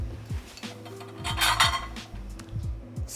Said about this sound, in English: grab yourself a hot bowl,